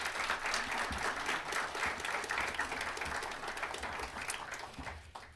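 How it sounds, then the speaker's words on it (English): Audience applause for a guest at a university conversation on democracy with Taiwan's Digital Minister, steady dense clapping filling the room and tapering slightly toward the end. "Please give a round of applause"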